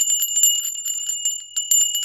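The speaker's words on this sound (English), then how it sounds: "Tinkly bells, man." Bright, high tinkling bells ring in a rapid, continuous jingling pattern, close and clear with no voices.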